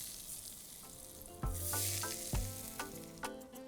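Mustard oil heating in a pan for chicken kathi roll, a soft steady sizzle with several clacking knocks of a utensil against the pan, near and fairly quiet.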